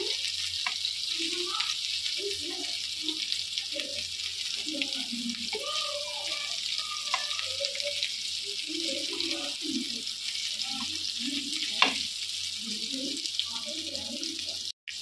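Rava-coated prawns shallow frying in a pan, a steady broadband sizzle running throughout with scattered soft clinks and voice-like murmurs underneath, and one sharp tap near the end.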